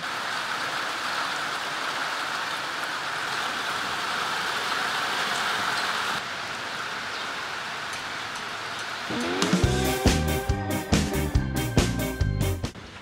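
Steady heavy rain hisses throughout a stop on a long-distance bicycle tour, with a flat tyre being dealt with. Near the end a louder, rhythmic tonal pattern joins the even wash of rain.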